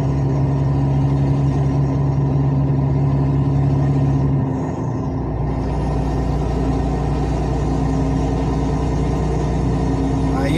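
A truck engine with a burst exhaust coil idles loud and rough, a harsh steady drone with a strong low rumble that shifts pitch midway and keeps running unevenly throughout.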